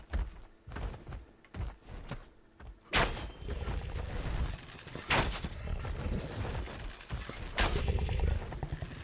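Sniper rifle shots ring out in the video game ARK, several sharp, loud reports scattered irregularly among thumps and softer in-game noise, with no talking.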